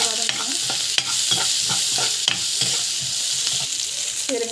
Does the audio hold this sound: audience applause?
no